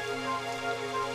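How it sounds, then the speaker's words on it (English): Rain falling in Dragon Quest XI gives a faint, steady hiss of drops on surfaces, held evenly through a very short stretch with no voices. "It would have to go and start raining, wouldn't it?"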